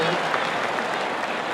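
A large stadium crowd at a sold-out Boston College vs Mizzou college football game keeps up a broad, steady roar of cheering and applause, with talk over it.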